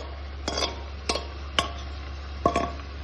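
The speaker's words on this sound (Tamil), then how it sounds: "இப்போ சிக்கன் எடுத்து நம்ம போட போகிறோம்." Chicken pieces tipped into biryani masala in a pan and stirred, four distinct scraping clatters of a spoon against the pan spaced roughly half a second apart over a low steady hum, close and moderately loud with no talk.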